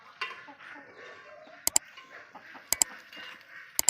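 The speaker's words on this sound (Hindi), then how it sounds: "देख लें कि हमारी मुर्गियां दाना खा रहे हैं" Aseel chickens cluck softly and steadily close by while eating grain, with sharp pecking taps in quick pairs striking a hard surface now and then.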